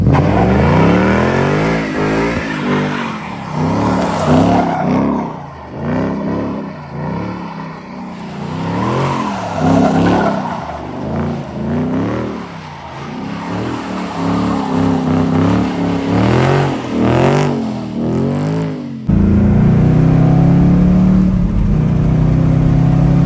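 A backyard-repaired flood-damaged car drives and drifts on gravel, its engine loud and near as it revs up and down in repeated surges, with tyres scrabbling over the loose surface.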